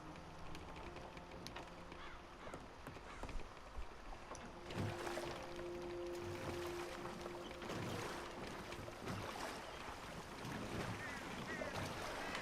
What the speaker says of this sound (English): I'm in a boat and I can't go fishing.